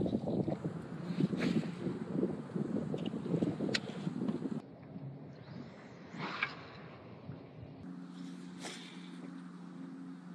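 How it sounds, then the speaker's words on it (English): Wind gusts roar against the microphone on a small fishing boat drifting on open water, loud and buffeting at first, then easing into a softer, steadier rush with a faint motor hum underneath. "So I'm letting the wind blow me across"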